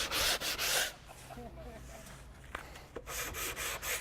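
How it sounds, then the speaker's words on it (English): Hand sanding along the edges of an Equitone fibre cement facade panel, heard as bursts of rough rubbing and scraping strokes in an uneven rhythm, close and moderately loud, with brief quieter pauses and faint talk. "now we're sanded and cleaned and ready for Luco"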